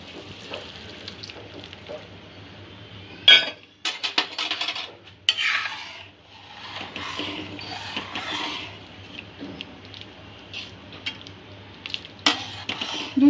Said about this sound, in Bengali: স্যুপটা একটু ঘন করার জন্যে যে কর্নফ্লাওয়ার ব্যাটারটা তৈরি করেছিলাম সেটা দিয়ে দেবো